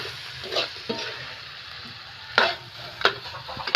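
Native chicken adobo fries in a pan with a continuous close sizzle, broken by several sharp crackling pops and spatters, the loudest bursts coming near the middle and end.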